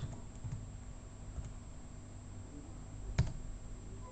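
A password typed on a computer keyboard, with a few soft, sparse key clicks and one sharper tap near the end over a steady background hum, and no voices.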